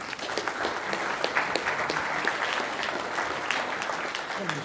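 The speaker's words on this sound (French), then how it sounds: "Mesdames et messieurs, vos applaudissements pour Nicolas Meillan." An audience at an energy-transition conference forum applauds to welcome a speaker onto the stage, producing a dense, steady roar of clapping from a large crowd that lasts throughout.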